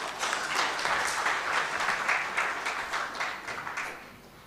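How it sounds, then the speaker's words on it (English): Audience applause for the chief guest at a spectrum management conference marking World Telecommunication and Information Society Day 2023, a steady moderate clapping from a hall crowd that tapers off toward the end. "A huge round of applause for her"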